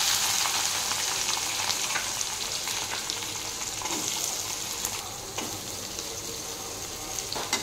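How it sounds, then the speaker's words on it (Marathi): Onions sauté in hot oil with cumin and garlic, giving a continuous dense sizzle and crackle that holds steady throughout, close and fairly loud, with occasional scraping stirs and no talking. "याला मी आता 2 मिनिट परतून घेणार आहे।"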